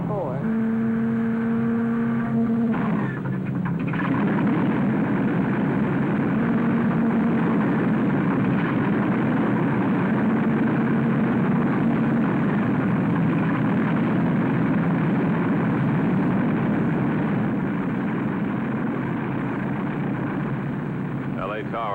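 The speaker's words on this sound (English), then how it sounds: "United Flight 718, City of Chicago, now departing from Gate 24." A departing airliner at an airport gate gives off a loud, steady engine drone that holds for over twenty seconds, with a faint tonal hum early on.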